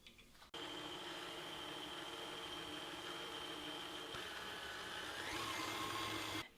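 A stand mixer with a dough hook works peach dough at medium-low speed, giving a steady motor whir with a faint rising pitch near the end before it switches off.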